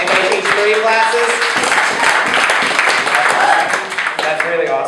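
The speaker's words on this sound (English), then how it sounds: "Clap if you taught a class this weekend." Audience at a performance class awards event clapping in a dense, steady burst of applause alongside voices, close and loud throughout.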